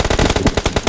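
Rapid automatic gunfire from a mobile shooter video game, a dense loud burst of evenly spaced shots filling the whole moment.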